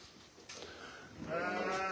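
A sheep bleats at a farm ahead of shearing, a wavering, quavering call rising near the end over faint background noise, moderately close and not loud.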